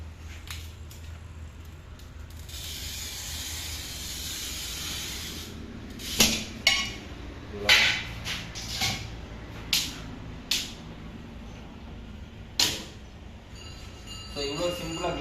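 Glass for a fish tank is scored and cut: a long steady hiss of the cutter gliding across the sheet, then a run of sharp, separate snaps and clicks as the glass breaks along the line, close and fairly loud.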